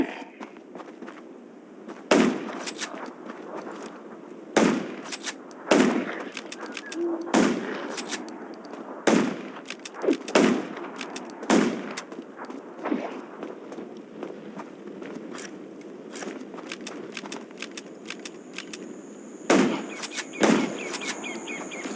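Sharp gunshots crack out irregularly in the video game Undawn, fighting zombies, some spaced apart and some in quick pairs, over a low rumbling background with faint electronic tones.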